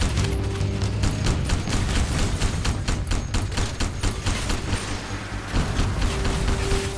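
Rapid, continuous gunfire in Crysis Warhead rattles along with heavy cannon booms mixed in, loud and dense throughout with no talking.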